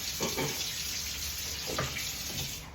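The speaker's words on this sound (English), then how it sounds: "first thing is just place it in the sink. And I like to use warmish hot water." Warm water runs steadily into a kitchen or bathroom sink to rinse a telescope mirror, a continuous close hiss and splash with no talk.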